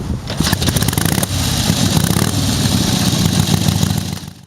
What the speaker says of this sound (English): Fire it up, and the exhaust roared with a ferocity that was pure American thunder.